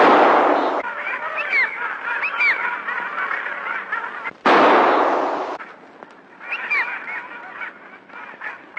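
A person imitates a duck's call to attract ducks while out duck hunting, producing repeated nasal honking quacks in close, loud bursts, broken by a couple of sharp broadband blasts.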